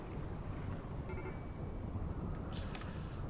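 Rain falls steadily in the video game RimWorld, a faint continuous hiss of drops with a low rumble underneath and no voices.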